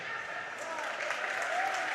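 Spectators clapping, a thin scattered patter from a crowd at a boys' high school hockey game between Andover and Rosemount in an ice rink, heard faintly under a commentator's voice.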